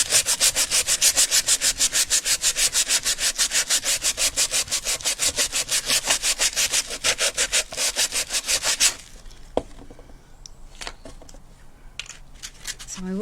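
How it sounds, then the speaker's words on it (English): Rough sandpaper scrubs a lighthouse diorama in fast, rhythmic back-and-forth strokes, loud and close for about nine seconds, then stops, leaving quieter scattered handling clicks and taps. "You might find a rougher sandpaper. That's better. That actually sounds like it might be doing something."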